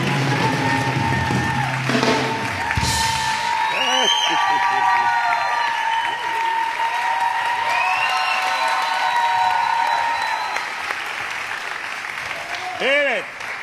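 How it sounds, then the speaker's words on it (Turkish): Studio audience applause on a Turkish TV game show fills the clip, steady and dense, with voices and music-like tones layered over it. "Alkışlar çıksa."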